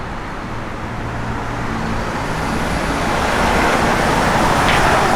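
A 1961 Chevrolet Impala with tubular front and rear control arms drives along, a continuous loud road and engine roar that swells slightly, with no talk.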